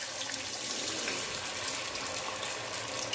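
Cornflour-coated Manchurian balls sizzle in very hot oil with a steady, loud, hissing fry that keeps going throughout.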